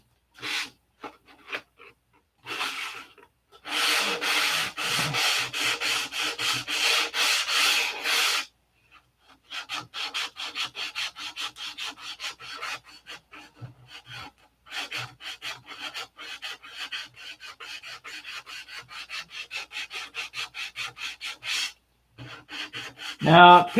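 Hand sanding of a surface in preparation for a paint job, with a long steady burst of rapid back-and-forth rasping strokes followed by a run of quicker, lighter strokes, close and alone with no talk.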